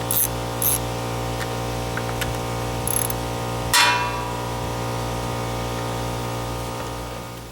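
A ratchet with a 10mm socket works on the carburetor of a barn-find Cub Cadet: quick clicking pawl bursts over a steady mechanical hum, close and moderately loud, with no speech.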